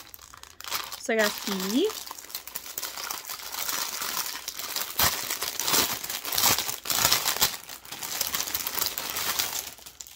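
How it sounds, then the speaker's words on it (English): Plastic packaging of a cross-stitch kit crinkling and crackling steadily up close while someone talks briefly near the start. "All right, crinkling."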